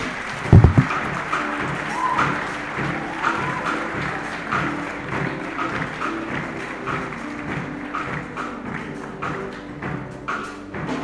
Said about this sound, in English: Another round of applause for HTI